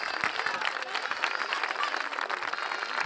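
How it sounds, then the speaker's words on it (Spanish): Sustained applause from an audience at a singing contest, greeting a female singer before her performance; dense, steady clapping fills the whole stretch without a break. "Ana Ramos, un forte aplauso para ela."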